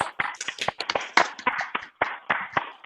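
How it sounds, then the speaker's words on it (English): Several people clapping over a video call after a reading at a book launch and open mic, a brief patter of uneven hand claps of moderate loudness with a short gap of silence partway through. "if you'd like to unmute just briefly so Hilda can hear us clap"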